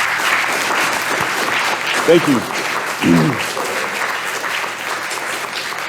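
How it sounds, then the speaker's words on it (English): Workshop audience applauding a speaker in a large room, steady clapping throughout, with a brief spoken thanks partway. "Can we give you a round of applause?"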